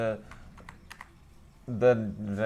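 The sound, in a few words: typing values on computer keyboard in Excel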